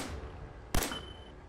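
A single sharp gunshot from the video game Fallout 4 cracks out near the middle, loud and abrupt, with a short ringing tail over a quiet background hum.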